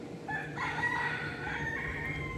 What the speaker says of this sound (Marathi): भरपूर कोंबडे आहेत इथे.